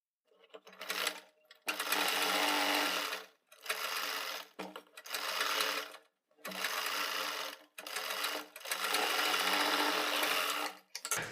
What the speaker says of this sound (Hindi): बुकरम के बराबर से सिलाई लगा लेंगे